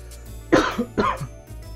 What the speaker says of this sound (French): faut que je tousse